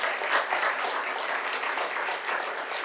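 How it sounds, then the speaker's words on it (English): A crowd at a Birmingham city council meeting applauds for a student, a steady, even wash of many hands clapping, moderately loud and continuous, with no voices over it. "Let's give them a round of applause."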